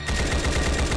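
Rapid automatic AK-47 fire in a Roblox game, a loud close burst of evenly spaced shots lasting about a second with no voices.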